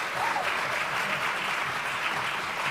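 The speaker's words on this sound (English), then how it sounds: "Please, let's give Shukri a round of applause." Steady audience applause at a summit fireside chat welcoming a panelist, a dense even wash of many hands clapping at once throughout with no voices.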